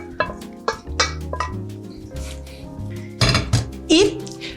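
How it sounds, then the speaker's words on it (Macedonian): A new pastry scraper works around a bowl, making sharp clinks and short scraping strokes against the sides, with a brief voice in between. "Ќе си искористам новата циделка на карес, за да ги иседам."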